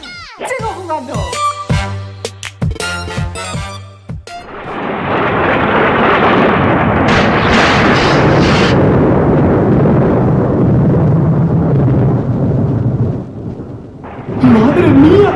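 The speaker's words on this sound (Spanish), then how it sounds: "¡Qué tormenta de rayos hace hoy!" Thunderstorm in a Pokémon-themed home skit: a loud, sustained rumble of thunder with rain-like hiss rolls on for about ten seconds, after a burst of music-like tones at the start.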